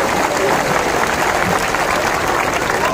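Loud, steady applause from a crowd welcoming Tushar Gandhi at a Kolkata gathering fills the whole stretch without a break.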